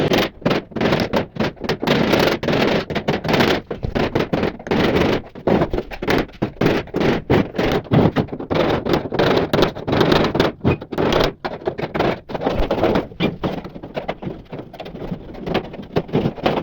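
Rivets being knocked out of an oven door by hand, a dense run of sharp metallic strikes and scrapes repeating close up with only short pauses throughout.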